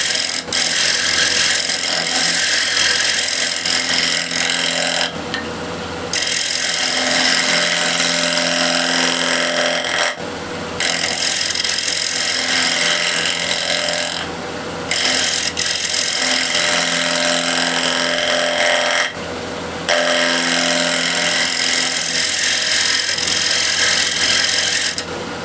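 Lathe tool used as a shear scraper on a walnut or cherry wood plate, giving a continuous rasping scrape in long passes, broken by three or four short pauses, close and loud with no speech.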